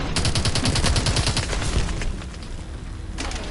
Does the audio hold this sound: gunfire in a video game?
yes